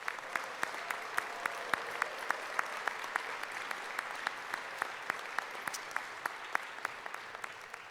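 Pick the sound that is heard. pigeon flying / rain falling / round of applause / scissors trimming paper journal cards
round of applause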